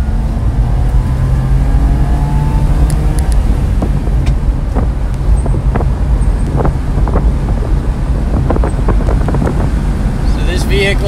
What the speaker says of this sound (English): So this vehicle just jumped right up to speed.